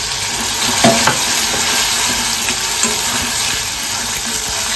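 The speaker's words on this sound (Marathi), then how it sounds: "इकडे फक्त सर्व पेस्ट ना आपण व्यवस्थित परतवून घेतलेला आहे" Tomato and green chili paste sautéing and being stirred in a pan, a steady close sizzle and fry with a few scraping stir sounds near the start.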